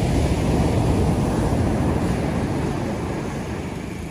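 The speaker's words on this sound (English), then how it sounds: "I like the bigger waves." Ocean waves wash onto White Beach in Puerto Galera, a broad steady roar of surf mixed with wind buffeting the microphone, loud and continuous, easing slightly toward the end.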